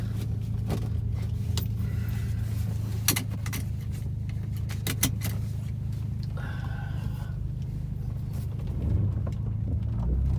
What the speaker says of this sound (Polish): Jest samochód ciszszy. Nawet jak stoję teraz.